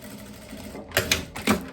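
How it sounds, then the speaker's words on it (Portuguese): A sewing machine stitches across the hem of a loose batwing blouse, starting with a low hum and then giving two short, louder bursts of rapid needle chatter, heard up close with no voices. "vou costurar aqui por cima."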